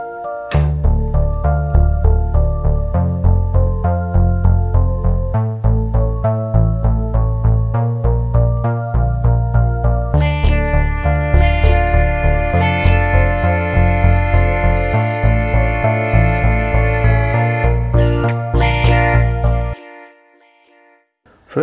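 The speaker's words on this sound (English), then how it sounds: "how you can synchronize the Behringer Pro-1 to the Volca FM" A Behringer Pro-1 synthesizer synced to a Korg Volca FM sequence plays a steady, loud, fast-pulsing electronic pattern. Brighter layered tones join midway, and the sequence cuts off near the end.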